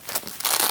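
Scissors or a blade slicing open bubble wrap packing around a Sebo Dart vacuum, a short close crinkly cut lasting under a second.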